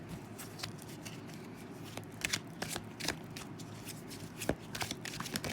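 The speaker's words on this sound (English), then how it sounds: "This deck is hard to shuffle." Close-up riffling and snapping of playing cards being shuffled, in quick irregular bursts over a low background hum.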